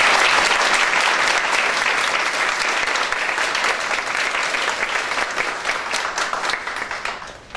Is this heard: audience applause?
yes